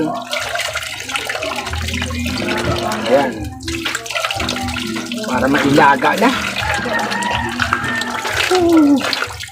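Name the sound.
strong flowing water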